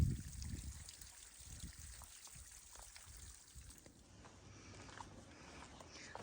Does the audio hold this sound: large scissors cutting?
no